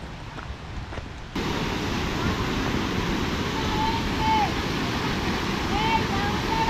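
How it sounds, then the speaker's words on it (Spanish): A small waterfall on the Tanamá river in Puerto Rico pours steadily, a broad, constant rushing roar that swells louder after the first second or so, with faint bird chirps rising above the water. "Y acá hay una pequeña cascada bien bonita, bien bella, véala."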